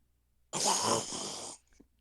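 One loud, raspy snore from a person lasts about a second, a harsh breathy rumble that rises suddenly and then fades, with near silence around it.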